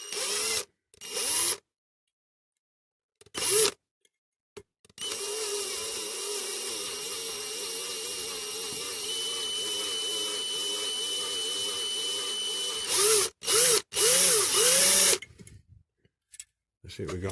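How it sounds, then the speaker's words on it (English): A power drill with a blunt bit whirs steadily for several seconds with a high motor whine, preceded and followed by short bursts of drilling, during restoration of a 1964 Dinky Toys Coventry Climax fork lift model. "The old drill bit's getting a bit blunt"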